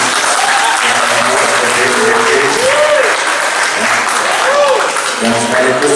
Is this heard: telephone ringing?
no